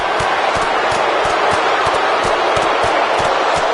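Dense, steady roar of an arena crowd cheering in the wrestling video game WWE 2K25, loud and continuous, with regular thuds cutting through and a commentator's voice faintly under the noise.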